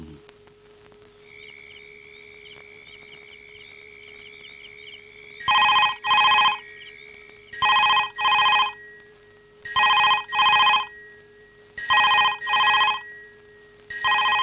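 A telephone rings in a home. Soft tones are heard first, then five evenly spaced double bursts of ringing come through loud and clear, with no voices.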